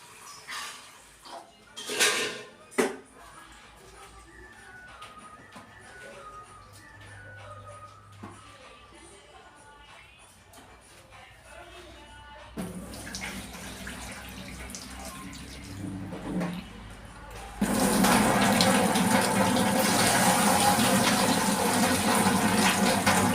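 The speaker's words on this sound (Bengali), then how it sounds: "ভালো করে বারবার জল ফেলে ফেলে ডালটা ধুয়ে নেবেন।" Moong dal being rinsed in a bowl of water, first soft sloshing and splashing of the lentils, then a steady, louder rush of running water filling the bowl, close by.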